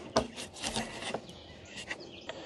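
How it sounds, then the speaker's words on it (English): A metal lock plate is slid out of an RV keypad door lock on a Forest River Cedar Creek 391WOW, giving a few faint, close scraping and rubbing sounds over two seconds. "And then you can just slide this out."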